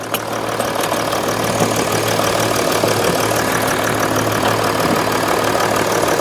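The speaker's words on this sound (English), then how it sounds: "There is a loud boost leak somewhere here." A Mercedes-Benz GL350 engine idles steadily with a constant low rumble and a broad hiss from a loud boost leak, close and loud throughout with no talking.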